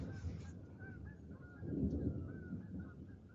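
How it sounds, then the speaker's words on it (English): Faint geese honking in the distance over a low rumbling background, several calls scattered through the stretch. "You can hear the geese running away."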